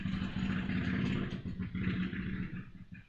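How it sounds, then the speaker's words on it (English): A nearby engine revs and idles with a steady low rumble and mechanical clatter, fluctuating in intensity and fading slightly toward the end. "I think we've got someone testing their engine here."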